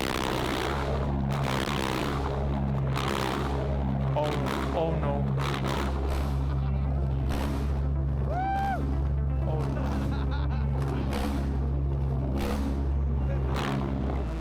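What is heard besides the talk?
homemade jet engine running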